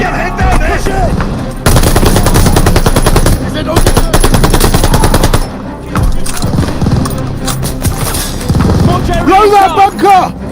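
Sustained machine gun bursts rattle through a Call of Duty: Vanguard battle, loud and near, with short pauses and booms between volleys while soldiers shout orders over the gunfire.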